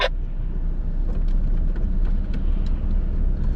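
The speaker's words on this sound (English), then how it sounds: "we've got a car coming down as well" A car rolling down a narrow green lane near Ripponden, heard from inside a Skoda Yeti as a steady low engine rumble with light rattles and clicks, no talk.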